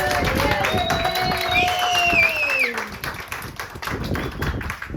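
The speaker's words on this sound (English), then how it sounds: "A round of applause." A comedy panel show crowd on the Gold Coast applauds a performer, steady clapping mixed with whoops and whistles; the noise stays dense for a couple of seconds, then thins as voices carry on.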